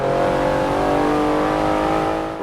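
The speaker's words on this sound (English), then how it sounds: "Acceleration on this car is amazing." A 2012 Porsche 911 GT2 RS accelerating hard in Forza Motorsport 7, its engine giving a loud, close, sustained rising drone with strong harmonics and no pause.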